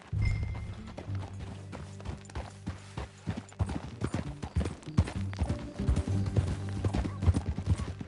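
Horse hooves clip-clopping at a steady trot in Red Dead Redemption 2, close and clear, with a rhythmic beat that grows busier and louder toward the end over low background hum.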